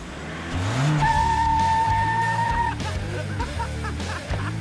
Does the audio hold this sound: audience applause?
no